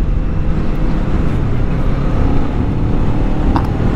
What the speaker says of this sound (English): I'm in 5th gear, and I'm kind of lugging it on purpose.